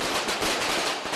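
Celebratory gunfire in Sri Lanka after the defeat of the Tamil Tigers crackles as a dense, continuous burst of rapid shots, loud and unbroken throughout.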